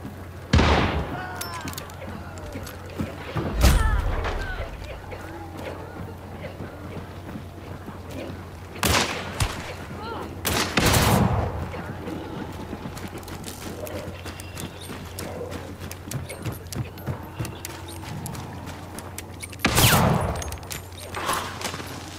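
Scattered gunshots in the PS5 video game Dragula: a handful of sharp, loud cracks spaced several seconds apart, with a low steady hum and soft background noise between them.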